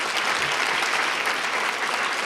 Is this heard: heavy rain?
no